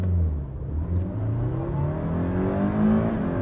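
A Toyota MR2 Mk1 engine revs up steadily, its pitch climbing as it accelerates, heard from inside with no talking.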